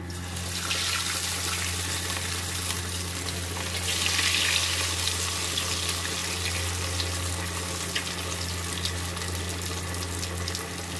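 Bread paneer lollipops deep frying in hot oil in a kadhai over a low to medium flame, a loud, steady bubbling hiss with a low hum beneath, swelling slightly midway.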